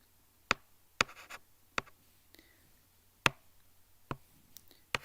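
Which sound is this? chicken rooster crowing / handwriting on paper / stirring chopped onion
handwriting on paper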